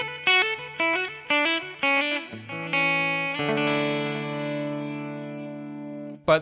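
Electric guitar played through a Kemper Player with stompbox effects, chorus and time-based delay, recorded direct via XLR: a run of distorted picked notes settling into a long sustained ringing chord, close and clean with no voices.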